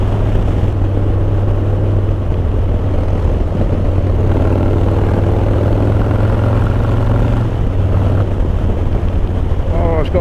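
A Harley-Davidson Low Rider S motorcycle engine drones steadily while riding, heavy with wind rush, its low rumble loud and continuous throughout.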